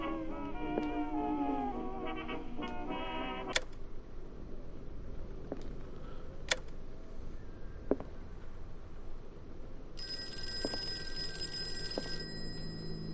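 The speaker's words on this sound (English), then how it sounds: "Oh god, the phone wasn't ringing a second ago." A telephone bell rings in a horror mystery video game, a loud trilling ring in short bursts for the first few seconds, then quieter ambience with sharp clicks and a second high electronic tone near the end.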